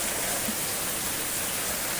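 Steady rain falls in a dense, even hiss that fills the background without pause, fairly loud and with no voices.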